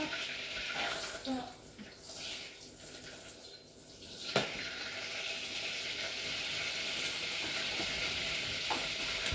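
Butter melting in a pan for a pina colada entremet, giving a steady, moderately loud sizzle with a sharp click partway through and no talk over it.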